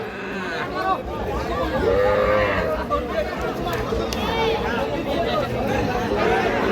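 Calves, young bulls and heifers, moo repeatedly amid a busy crowd of chattering voices at a cattle market, the lowing calls rising and falling nearby.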